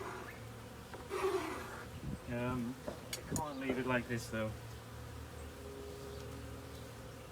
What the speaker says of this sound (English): A bee in here.